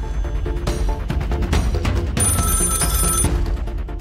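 A telephone rings in bursts over loud dramatic music, the ring clear and close, with no voices.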